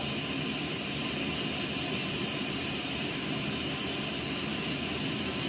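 Loud, steady roaring hiss fills the whole clip without a break, broad and harsh like strong steam escaping from a cooking pot at close range.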